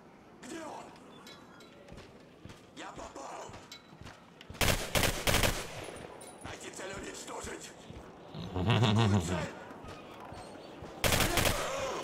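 Video game gunfire from a Soviet-themed shooter, with several loud bursts of rapid automatic shots and heavy booms breaking through, while a player talks quietly between the volleys.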